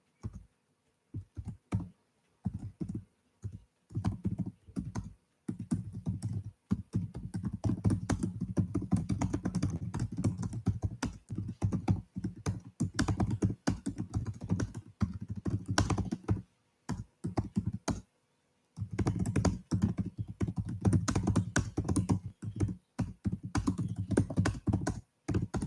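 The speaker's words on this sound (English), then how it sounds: "let me type that out." Typing on a computer keyboard: long runs of rapid, close key clicks and taps in uneven bursts, broken by a few short pauses, with no talk over it.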